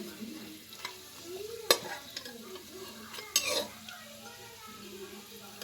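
A spatula stirs something frying in butter, with a low sizzle under a few sharp scrapes and clanks against the pan and a voice talking faintly in between.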